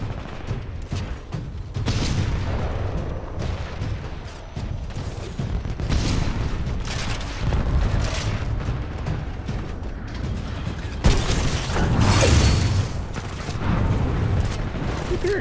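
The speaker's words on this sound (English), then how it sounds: "Gunshots." Gunfire in the Titanfall video game, with repeated bursts and shots rattling in dense clusters, punctuated by louder blasts and booms across the whole stretch.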